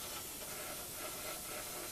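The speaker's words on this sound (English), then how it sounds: "Just by spraying this light coat over it." Spray gun laying a light guide coat over the white body of a Firebird car, a steady close hiss of atomised paint running unbroken with no pauses.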